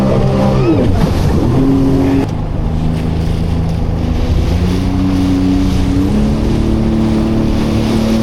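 Loud, continuous engine drone of a jet ski running at speed, its pitch shifting up and down as it rides, with water and wind rushing past.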